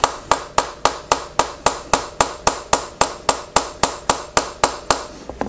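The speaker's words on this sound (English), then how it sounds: "So we'll just sort of slowly tap on it" A Wheeler gunsmithing hammer taps a punch steadily to drive out a trigger pin on a CZ 457 .22LR rifle, giving sharp close metallic strikes evenly spaced about four per second, with no talk.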